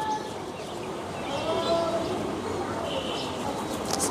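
A male deshi giribaj pigeon gives low, murmuring coos beneath someone talking nearby, with faint chirps from other birds in the loft mixed into the background.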